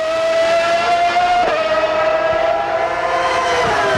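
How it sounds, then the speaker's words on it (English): A 1994 Ferrari Formula 1 car screams past at Monza, a loud high-pitched engine note held steady with a sharp gear change midway, then dropping slightly in pitch as it moves away. "Listen to that note of that car."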